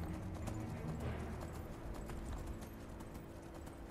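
Hooves of a player's horse in a fantasy role-playing video game, Skyrim-style, clip-clopping in a steady galloping rhythm at close range over a low game ambience.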